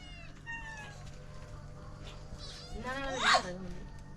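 A tomcat meows several times close by, its calls rising into one long, loud, drawn-out yowl, while people talk quietly in the background.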